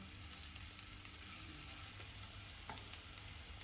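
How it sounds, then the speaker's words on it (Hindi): Finely chopped onion frying in a pan, a steady faint sizzle running evenly throughout with a soft crackle near the end, no voices. "और एक प्याज को बारीक चॉप कर लिया है। इसको मुलायम होने तक पकाएंगे।"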